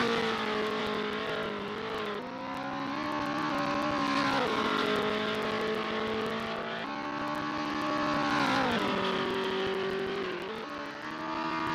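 A Porsche race car in a sim race at Laguna Seca drives on with a loud, steady engine note, rising in pitch through the gears and dropping at each shift, repeating several times with no voices.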